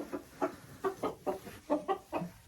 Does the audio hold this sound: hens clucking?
yes